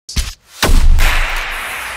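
A single dry, punchy elemental hammer blast sound effect from the game Dauntless, with a sharp attack and a broad noisy body that cuts off without any reverb or echo, preceded by a brief low thump.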